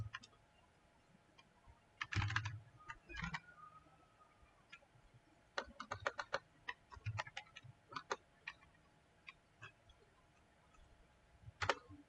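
Someone types on a computer keyboard while entering data into a database table, quiet scattered keystroke clicks in short irregular bursts with pauses between, close and alone.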